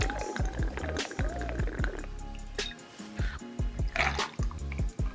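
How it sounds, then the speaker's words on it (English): Peach schnapps poured into a Collins glass over ice for a peach cocktail, with wet glugging and dripping liquid sounds close up, in short bursts across the clip. "Then we'll do 1 ounce of peach schnapps."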